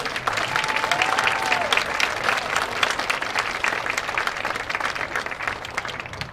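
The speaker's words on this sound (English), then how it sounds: "let's give a round of applause for our orchestra" A graduation commencement audience applauds the orchestra with steady, dense clapping that holds at an even level throughout, and a faint tonal whine rises briefly near the start.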